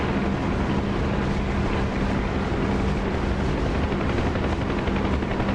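A helicopter in the DCS flight simulator game gives off a steady, loud rotor and engine roar, unbroken throughout with a constant low hum and no talking.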